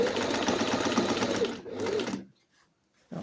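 Close, steady whir and rapid needle chatter of a sewing machine stitching a belt loop repair, running for about two seconds with a brief pause, then stopping before a short final burst.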